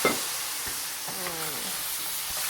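A loud, hissing sizzle fills the pan as liquid hits hot metal while cooking mushrooms, steady and close, with a faint scrape partway through.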